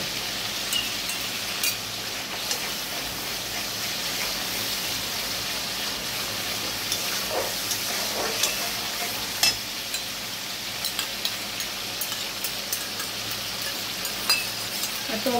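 Spice masala with sour yogurt stir-fried in a pan, a steady soft sizzle with scattered scraping and light clinks of a spoon, close but moderate in level, no talking.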